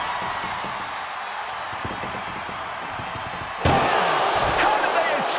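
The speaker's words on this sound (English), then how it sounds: "Trying to at least slam one door shut." An ambulance door slams shut during a wrestling match, a sudden loud bang that cuts through the roaring arena crowd noise and commentary, with the din staying louder afterward.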